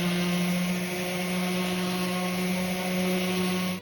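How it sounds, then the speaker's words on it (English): A Black & Decker power sander fitted with 120 grit sandpaper works scrap wood, giving a loud, steady, unbroken motor whir with a droning hum that runs the whole time, no voices. "I'm going to use my Black & Decker sander."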